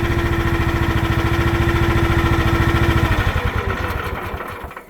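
A small AGT LH12 engine runs close and loud with a fast, even chugging idle, then winds down and fades as it is shut off near the end.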